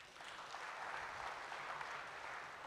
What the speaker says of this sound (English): Can you clap for Joshua?